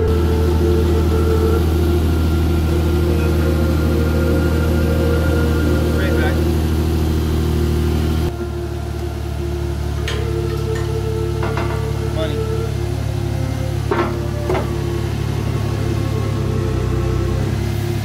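A Toyota Supra engine idles with a deep, steady rumble close by, showing a slight dip in pitch partway through, while faint voices and a few small clicks sound over it.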